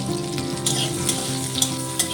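Bitter gourd frying in mustard oil in a wok, a steady close sizzle with faint scrapes as the pieces are stirred, no voices.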